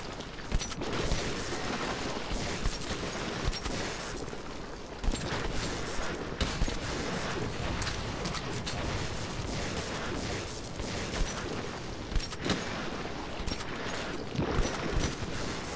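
Metro 2033 shooter on hardcore difficulty: dense gunfire and explosions in a dark tunnel, repeated sharp shots and booms over a constant roar of noise, loud and chaotic throughout.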